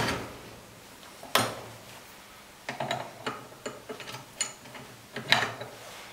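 Metal parts of a common rail injector clamping device being fitted: an adapter plate and axial clamp fixed onto a main shaft, giving a few sharp clicks and clacks, then a cluster of small irregular mechanical knocks and ratchet-like taps, close and fairly quiet.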